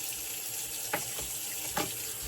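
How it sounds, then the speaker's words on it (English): Tap water runs steadily into a basin for a shave lather setup, a constant hissing splash close by with a couple of brief clunks or drips standing out, no voices. "So while I'm filling the basin,"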